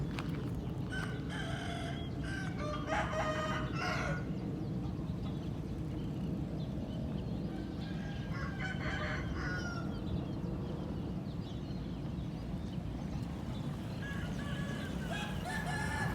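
A rooster crows at a moderate distance, repeated a few times over steady farmyard background noise.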